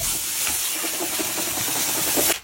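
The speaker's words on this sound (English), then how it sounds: "I'm just going to rinse my butter beans now" Tap water runs in a steady hissing stream over butter beans being rinsed, close and continuous, then cuts off abruptly at the end.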